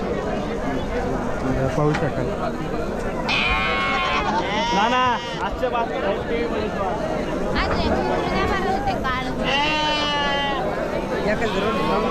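Sheep bleat repeatedly at a busy goat and sheep market in Chakan, Maharashtra, several wavering cries rising out of crowd chatter and background noise, fairly close and loud.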